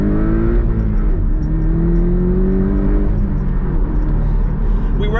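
A Porsche 718 Cayman T engine revs steadily toward its roughly 7,200 RPM limit, its pitch climbing and holding under acceleration, loud and close inside the car, with no talking.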